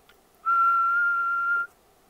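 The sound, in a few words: human whistling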